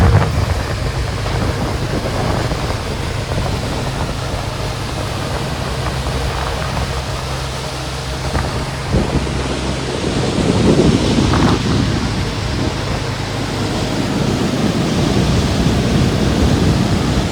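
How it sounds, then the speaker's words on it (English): Loud, steady rushing of white water on Nepal's Annapurna Circuit, roaring without pause, broadband and close, with a slight surge midway. "White flow of water."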